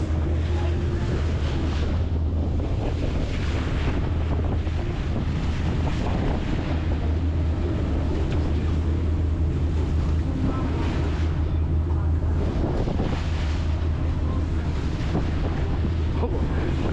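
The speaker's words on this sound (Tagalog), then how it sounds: "Lalaki ng alon no?" Steady loud wind buffeting and rushing water from big ocean waves surround a boat engine's low drone, with waves churning continuously throughout.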